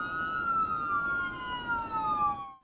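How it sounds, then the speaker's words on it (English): An ambulance siren wails in a steady, slowly falling tone, heard at moderate distance on a road for a few seconds before cutting off. "We're all familiar with the sound of an ambulance headed down the road."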